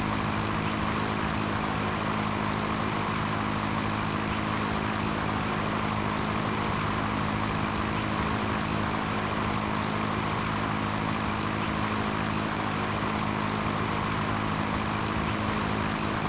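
A Cessna engine drones in a retro flight-simulator game, Sierra Pro Pilot, as throttle is added for a climb, a loud, constant propeller hum with a steady tone throughout and no voices.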